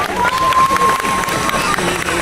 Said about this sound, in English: the drivers take the applause of the crowds